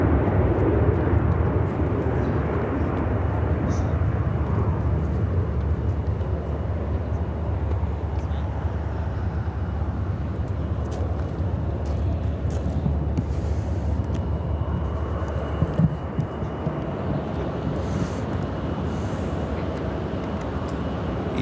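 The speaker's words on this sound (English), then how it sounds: "Austrian Flight 66 taking off to Vienna on the 787-9 Dreamliner." An Austrian Airlines Boeing 787-9 Dreamliner takes off on a flight to Vienna, a steady, loud jet roar that holds throughout with a low rumble and broad hiss. No voices are heard.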